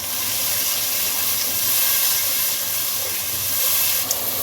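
Masala paste and yogurt frying in a pot for beef pulao, giving off a steady, loud hissing sizzle that runs without a break from start to finish.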